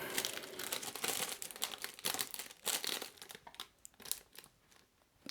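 A sheet being torn off and folded gives close, busy crinkling and rustling with sharp tearing bursts, then tapers into sparser crumples near the end, with no talking.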